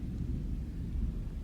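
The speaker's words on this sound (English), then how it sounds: "the thunder is rolling in" Thunder rolls through mountains as a deep, continuous low rumble, steady and heavy, heard alone without talk.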